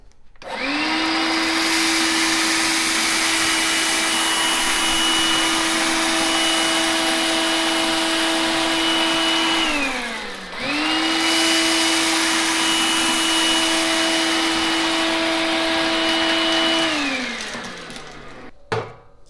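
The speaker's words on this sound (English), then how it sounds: "Alright, now let's try the Makita." A Makita cordless vacuum cleaner runs steadily over grains of rice, its motor whine holding level for about ten seconds and dipping briefly before a second equally long run, then cutting off at the end.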